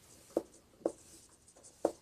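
Three short, sharp taps of writing strokes on a board during a maths class, spaced evenly apart against a quiet room.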